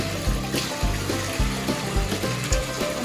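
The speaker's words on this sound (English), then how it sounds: "I'm going to go ahead and rinse that now." Water runs steadily into a bathtub during a rinse, a continuous splashing stream with rhythmic pulses as the flow is moved around, close and fairly loud.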